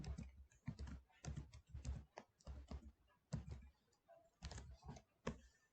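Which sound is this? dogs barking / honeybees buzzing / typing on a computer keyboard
typing on a computer keyboard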